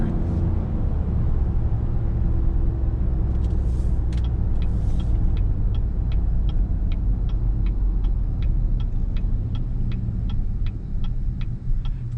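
A 2017 Cadillac Escalade luxury SUV drives in sport mode, a steady low cabin rumble of engine and road noise with a run of regular faint ticks partway through.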